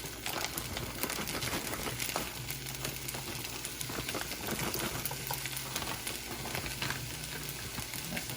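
Shrimp sizzle and fry in a pan for shrimp fried rice, a steady dense crackling hiss that holds evenly throughout with no voices over it.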